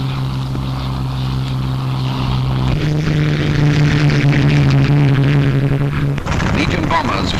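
Piston engines of WWII Mustang fighter planes flown by Polish pilots drone with a steady, throbbing pulse that shifts pitch partway through, loud and continuous, likely under narration.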